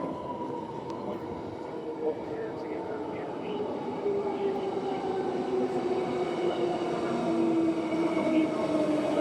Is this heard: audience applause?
no